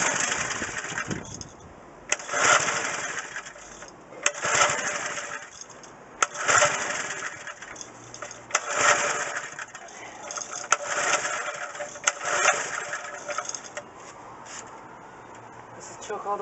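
A McLane edger engine with its choke fully down is pulled to start several times. Each pull gives a short burst of sound, about every two seconds, and it settles into a rough, uneven running note. A person talks over it throughout.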